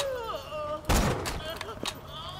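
A single heavy sniper rifle shot booms out in Borderlands 2, cracking loud and broadband, then a few faint sharper reports follow, all over steady game music and ambient tones.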